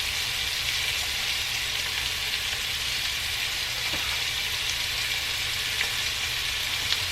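Shrimp seasoned with salt, black pepper, basil and garlic powder fry in a pan, giving a steady, even sizzle that hisses continuously and alone throughout.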